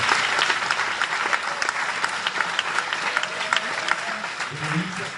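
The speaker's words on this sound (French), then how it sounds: "Donc on l'applaudit très fort" Loud, dense applause from a crowd at a French sports club's awards evening, honoring a women's youth team coach, sustained steadily throughout with a voice emerging near the end.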